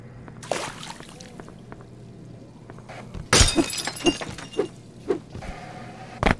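Safety glass shatters in the video game Black Mesa: a faint early crack, then a loud sharp crash followed by a string of tinkling, clattering shards falling in quick bursts.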